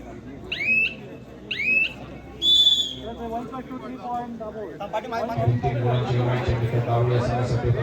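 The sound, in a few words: referee whistle blowing to end the match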